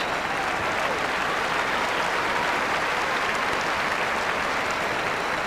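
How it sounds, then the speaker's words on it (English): A Wimbledon crowd clapping between points at a 1998 women's semi-final tennis match, a dense, even wash of applause from a large stadium audience that continues without a break. "And they'll be clapping now as they go back to their places."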